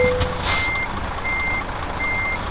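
Truck reversing alarm in the Euro Truck Simulator 2 driving game, three steady evenly spaced beeps over engine rumble with a brief air-brake hiss at the start, no talking.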